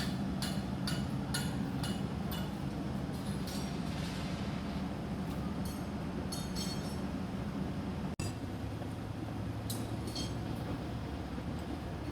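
Thai express train 997, bound for Chuk Samet, runs along with a constant low rumble heard from inside a carriage, broken by bursts of rhythmic metallic clinking and rattling, fairly faint overall.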